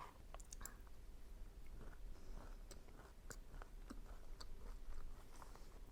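Close, quiet chewing of a bite of Dubai towel cake, with soft crunches, clicks and mouth sounds repeating irregularly over a faint background hum; no one speaks.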